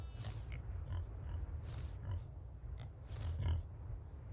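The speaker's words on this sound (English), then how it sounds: "I love these little pigs." Pigs in the farming game Farm Together 2 grunt and oink softly in a few short bursts over a low, steady background hum, with no one talking.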